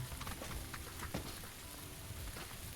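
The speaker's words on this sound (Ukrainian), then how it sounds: "погода, до речі, прикольна, мені подобається дощ. Дощова погода." Steady rain falls in PUBG on the Taego map, a continuous close patter of drops on surfaces that fills the whole stretch without any voices.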